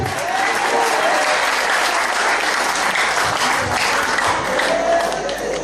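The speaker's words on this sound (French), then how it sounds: "Applaudissez." A large audience at a French-speaking church gathering bursts into loud, sustained applause, thick continuous clapping with crowd murmur and cheering underneath, holding steady from start to finish.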